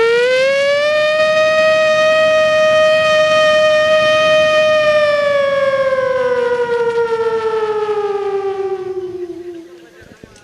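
A voice imitates a factory siren during a comedy performance at a festival, holding a loud, steady wail for several seconds before the pitch slowly sinks and fades out.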